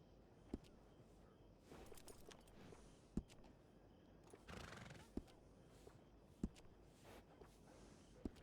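A horse in the Red Dead Redemption 2 video game lands sparse, distinct hoof thuds spaced a second or two apart, plus a brief whinny partway through, all quiet over a soft background with little talk.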